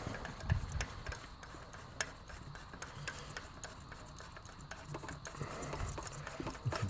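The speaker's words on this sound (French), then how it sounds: "Dévisser, hop." A spark plug is unscrewed from a Renault 1.2 TCe 130 petrol engine with a tool, making faint, irregular small clicks and ticks against a quiet background.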